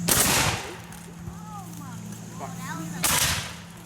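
Rifle volley fired by files at a living history demonstration at Fort Totten: a loud crack opens the clip and another rings out near the end, with faint voices in between.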